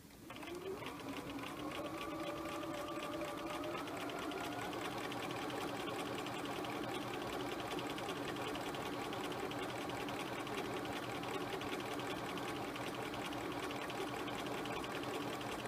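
A sewing machine runs steadily while stitching a curved collar seam, a continuous close buzzing whir that starts up and holds an even speed throughout.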